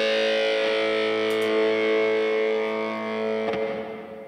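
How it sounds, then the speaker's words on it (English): Electric guitar, a Tele-Star 5002, running through distortion with added reverb, a sustained chord washing out with a soft trailing tail, a fresh strum near the end and then fading, no voices present. "You want to give me a little reverb?"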